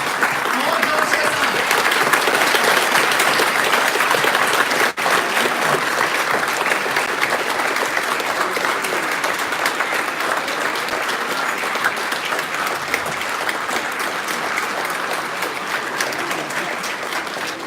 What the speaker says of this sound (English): So I want a big round of applause for your parents.